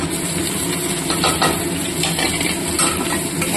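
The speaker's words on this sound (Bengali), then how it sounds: "রসুনগুলো একটু ভাজা ভাজা করে নিচ্ছি দিয়ে দিচ্ছি পেঁয়াজ কুচি" Crushed garlic and chopped onion fry in a pan for a rohu fish curry, making a continuous, fairly loud sizzle with intermittent scraping and clinking of a spatula against the pan, and no voices.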